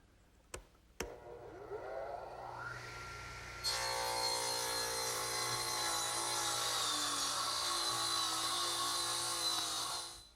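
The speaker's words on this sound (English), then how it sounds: "I think I'll use my radial arm." A radial arm saw trims excess wood while building a rocking horse: two sharp clicks, then the motor whines up and runs loud and steady through the cut before cutting off abruptly.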